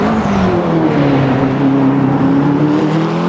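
A McLaren race car engine in the racing game Automobilista 2, a meaty, steady, loud drone holding a sustained pitch that rises slightly, with no talk over it.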